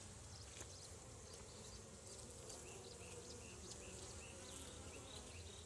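Honeybees buzz at an open hive during an inspection, a continuous close swarm hum with individual bees droning past, steady and fairly quiet.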